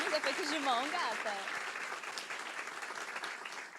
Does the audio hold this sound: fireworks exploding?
no